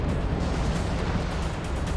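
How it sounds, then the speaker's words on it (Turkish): A massive eruption of the Yellowstone supervolcano roars as a dense, continuous low-heavy rumble, loud and unbroken throughout with no pauses. "Bu Yellowstone süper volkanının en büyük patlamasıydı."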